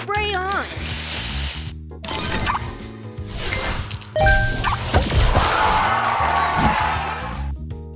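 A spray booster fires in a match-3 mobile puzzle game, a burst of hissing, sizzling effects that swells midway through and runs on over busy, bright game music and chiming jingles.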